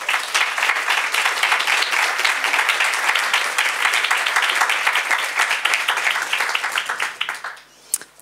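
Enthusiastic applause from a lecture audience welcoming Professor Gayatri Chakravorty Spivak at an event marking Marx's anniversary. The dense, rapid clapping stays loud for about seven seconds, then fades quickly to a few scattered claps.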